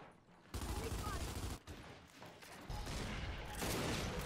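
Dense gunfire in the video game Gears 5 during a ranked Control match, loud bursts of rapid shots running nearly continuously with a brief lull midway.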